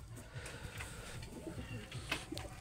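Pigeons coo softly in a breeding room, several low repeated calls overlapping in a gentle rhythm, faint and close with a quiet background.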